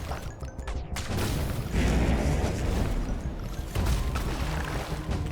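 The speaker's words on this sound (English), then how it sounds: "Do you like that explosion?" A loud, sustained explosion in the survival action game Nyran Survivors, a dense rumbling blast that swells and keeps roaring for several seconds, with the game's background noise still running beneath it.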